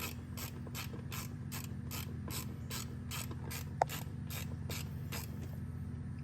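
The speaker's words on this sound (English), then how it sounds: "It does help if you have kind of a swivel socket or a swivel ratcheting wrench." A swivel ratcheting wrench works a fuel line bolt with a steady run of about fifteen evenly spaced ratchet clicks, close and crisp over a low steady hum, with one sharp metallic tick midway.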